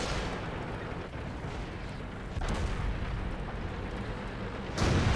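Heavy IS-6 tank gun in World of Tanks, firing shells that fail to penetrate, heard as a dense, sustained roar of cannon blasts and rumbling impacts with a louder boom near the end.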